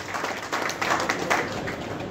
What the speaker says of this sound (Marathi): यासाठी एकदा जोरदार टाळ्या झाला.